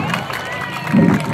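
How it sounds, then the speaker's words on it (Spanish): Circus audience at Circo Nueva Flor cheering and clapping for a performer, a lively crowd roar with shouts and children's voices rising near the end. "Fuerte el aplauso para Alberto, la estatua de la libertad."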